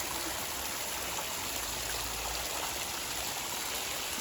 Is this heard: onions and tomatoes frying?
no